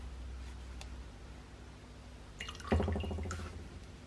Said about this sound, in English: you wring it in an extra cloth to avoid using gloves and to get the final amounts of hot water out, the final drips